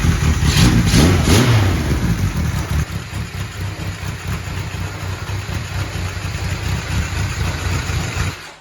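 A 1980 Kawasaki KZ1000G motorcycle engine runs with the choke on, revving loudly up front before settling into a steady, rough, close idle for the rest of the stretch.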